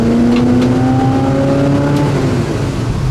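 A 1971 Chevelle V8 engine roars loud and close on kick-down, its pitch climbing steadily under hard acceleration, with a continuous rumbling drone throughout.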